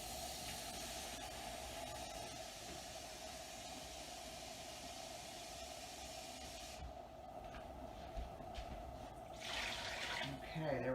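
Tap water runs steadily into a pot for soup with chicken, a constant close hiss that eases briefly and then surges again near the end.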